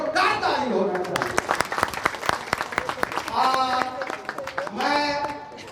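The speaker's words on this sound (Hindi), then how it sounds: "इसके लिए जोरदार ताली होना चाहिए।" A crowd at a statue unveiling ceremony for Rana Raghunath Singh breaks into clapping, sharp hand claps popping out in a dense run beneath a man's ongoing amplified speech.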